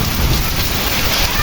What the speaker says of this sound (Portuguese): É o temporal, pessoal, de chuva agora à tarde aqui